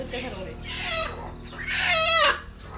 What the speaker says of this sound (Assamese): সৰু ৰকাই মুৰ্গীৰ এখন ফাৰ্ম আছে আমাৰ বাৰু।